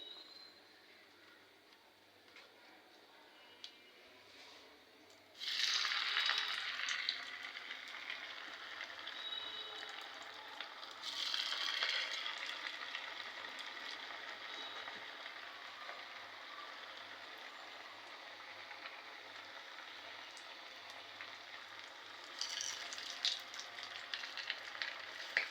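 Tikia patties fry in hot oil with a steady, soft sizzle and crackle, swelling into louder bursts of spitting three times along the way, with no voices.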